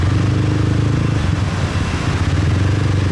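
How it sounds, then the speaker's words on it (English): A motorbike engine drones steadily at close range while riding through Saigon city streets at night, its low rumble continuous with slight variations as it moves along, no speech. "So we're on a motorbike and we're driving."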